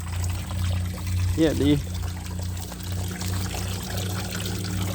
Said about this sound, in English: this fountain right here, I filled it up yesterday